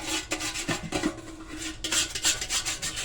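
Gunk being scraped off a metal tin makes close, gritty rasping strokes in a quick uneven run of rubbing passes, with no voices.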